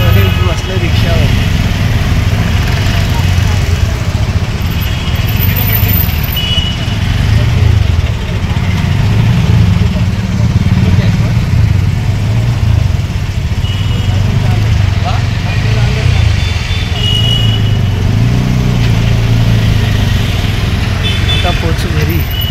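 An autorickshaw engine drones steadily at low pitch during a late-night ride, running throughout while people talk over it.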